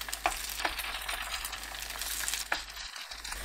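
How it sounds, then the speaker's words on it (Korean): Yeolmu-jeon batter made with young radish greens fries in a preheated oiled pan over medium-low heat, giving a steady close sizzle broken by a few sharp utensil clicks. "팬에 식용유 두르고 예열합니다. 예열되면 중약불로 낮추고 반죽 올리세요."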